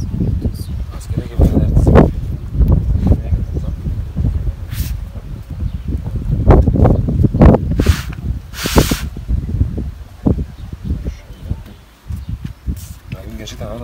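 Wind gusts rustle outdoors in uneven surges while people talk nearby throughout.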